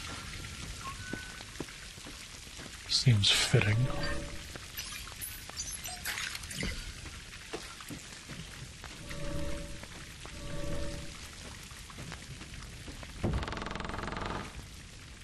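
Rain falls steadily in the horror video game A.I.L.A, a soft continuous patter with scattered drips, broken by a few louder splashing or rustling bursts; a voice speaks briefly over it.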